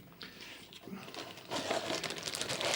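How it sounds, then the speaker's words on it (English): Plastic bag crinkling up close, soft rustles at first that grow louder and denser, a steady crackly handling noise. "in a plastic bag"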